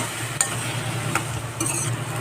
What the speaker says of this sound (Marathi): चवीप्रमाणे मीठ टाकायचे आणि हे व्यवस्थित असं आपण मिक्स करून घेऊया